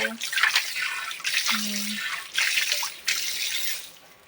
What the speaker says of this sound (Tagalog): Hugas lang ako ng aking nakatambak na hugasin sa lababo.